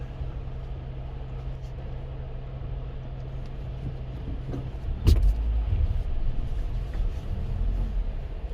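Ford EcoSport engine straining on a rough mountain road near Nako and Kaza in Spiti Valley, a steady low drone with a sharp knock midway as the car jolts over stones, nearby and continuous.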